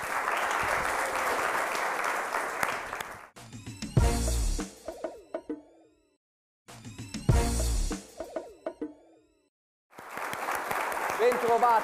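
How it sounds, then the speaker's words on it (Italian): An audience applauds the projects at a regional job-fair event in Genoa, a burst of dense clapping that breaks off into separate studio jingles and noises, then returns near the end. "un grande applauso conclusivo a tutti i 15 progetti in campo"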